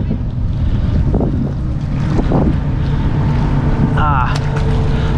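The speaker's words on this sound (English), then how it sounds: "letting me go in front of the party boat" A party boat motors past on a local inlet, its engine rumble broad and steady beneath strong wind buffeting on the microphone, with lapping water and a brief whistling tone near the end.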